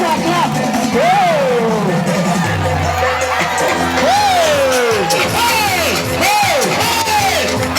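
A loud audience at a dance battle contest cheers, whoops and yells continuously while an announcer's voice calls out over the crowd noise.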